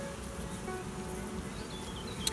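Honey bees buzzing around a hive while nucs are being made, a faint, continuous droning hum with scattered individual bees passing close, heard alone.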